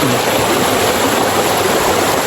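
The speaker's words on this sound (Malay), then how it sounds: "aliran sungai dari gunung" A rocky mountain river streams steadily past stones beside a riverside garden, a dense, continuous rushing wash of flowing water, close and loud with no break.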